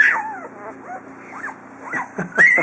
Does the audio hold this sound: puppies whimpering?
yes